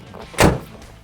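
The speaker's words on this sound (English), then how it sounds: "You want to close your tailgate." A pickup truck tailgate is shut with a single short, solid thunk, close and alone against a quiet background.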